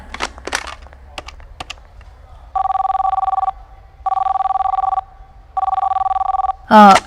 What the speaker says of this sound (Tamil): சாரி, அவர் ஃபோன் எடுக்கல.